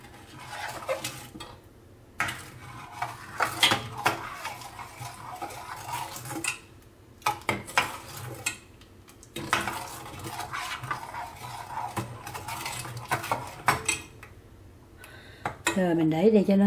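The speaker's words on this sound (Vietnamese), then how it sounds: "Mình phải bưng cái nồi này qua cái bếp này cho nó nguội" A metal cooking pot is lifted and set onto another burner of a home stove to cool, with clanks and scrapes of cookware amid kitchen clatter, while someone talks over it.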